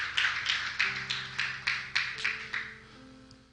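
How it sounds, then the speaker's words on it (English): A church congregation claps hands together in about nine sharp, evenly spaced bursts, loud and close, with a sustained organ-like tone humming underneath before the applause fades. "Let's give them a hand clap."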